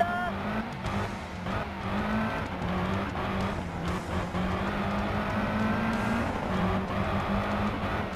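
A Ford Escort RS Cosworth turbo rally car in Sebastien Loeb Rally Evo, its engine revving and shifting gears continuously with turbo whine and tire noise, while a voice talks over it.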